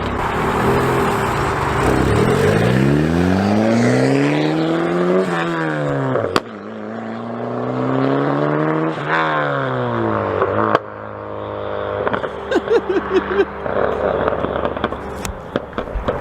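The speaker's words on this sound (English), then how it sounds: "She's playing with the pops and the bangs over there." A turbocharged Honda Prelude revs repeatedly up and down, engine pitch climbing and falling in long sweeps, with sharp exhaust pops and crackles bursting between pulls, loud and close.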